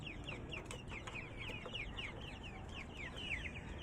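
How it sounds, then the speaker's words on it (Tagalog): Chicks being fed peep and chirp in a busy, overlapping chorus of rapid high calls, fairly quiet and steady throughout, with no talk. "Itong mga sisiw ko na ito."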